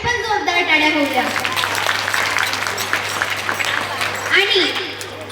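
Audience applause at a school function in Bharat Vidyalaya, following a children's kirtan performance, sustained and fairly loud across the whole stretch, with a voice speaking over it at the start and near the end.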